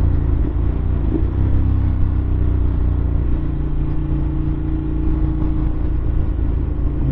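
Steady road traffic rumble with passing car engines surrounds a Ducati Monster 1200R motorcycle ride, a continuous low drone with occasional revving swells and no talking.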